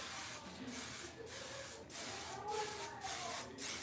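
Sebastian Shaper hairspray spritzed onto hair while styling a French roll for a client with crown alopecia, heard as six short hissing bursts spaced evenly about every half second to second, close and fairly loud with no talking.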